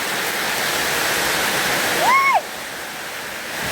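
Heavy rain and running water make a dense, steady hiss that continues without a break, joined briefly midway by a short rising-and-falling tonal sound before the downpour carries on alone.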